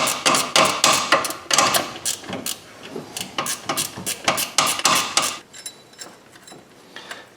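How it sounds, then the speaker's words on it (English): A 14 mm ratchet wrench spins a bolt in on a Scion xD, producing close, loud bursts of quick ratcheting clicks and metallic clacks that stop near the end, leaving a quieter tail. "I'm just going to go down here with a little 14 ratchet wrench and spin that in most of the way"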